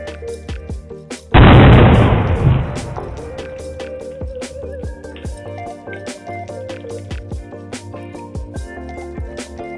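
A single sudden loud explosion on a street erupts, then decays over a second or two, set against quiet background noise with faint intermittent clicks.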